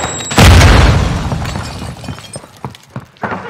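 A Semtex grenade detonates in Call of Duty: Modern Warfare II, one loud close boom with a shattering burst that decays over a couple of seconds into scattered clanks and small debris sounds.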